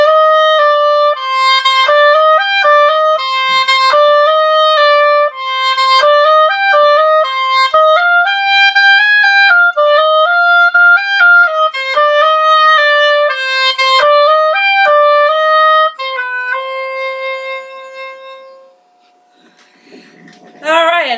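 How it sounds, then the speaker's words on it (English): Solo oboe melody played alone, a clear reedy double-reed line of connected phrases with steady sustained notes, fading out near the end. "But anyway, this is the oboe,"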